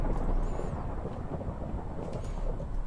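Thunder rolls through a storm in the Mage: Dark Ages video game, a steady, heavy low rumble with a noisy wash over it and no voices.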